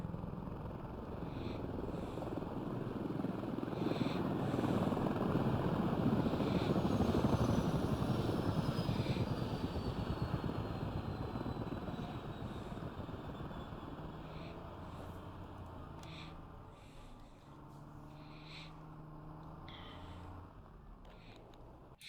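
Helicopter in the military shooter game Squad, a loud steady rotor and engine roar that swells and then slowly fades as it flies past, with a few sharp click-like sounds toward the end.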